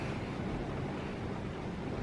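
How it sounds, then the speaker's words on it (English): Heavy pouring rain during a lightning storm makes a steady, dense wash of hiss and roar, loud and close, with no pauses and no voices. "Pouring rain."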